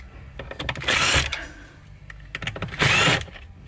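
A power screwdriver whirs in two short bursts, backing Phillips head screws out of the dash panel of a 2017 Hyundai Tucson during stereo removal, close by with light handling clicks between.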